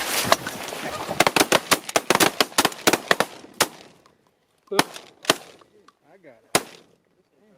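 Shotgun blasts ring out in a rapid, dense volley during a sandhill crane hunt in the Texas Panhandle, followed by a few scattered single shots, loud and close, with brief shouts among the hunters.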